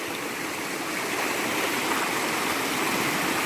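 Floodwater rushing steadily through a creek after a night of heavy rain, a dense, continuous roar of flowing water that stays loud and even throughout, with no voices.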